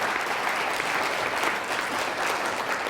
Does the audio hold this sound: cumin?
no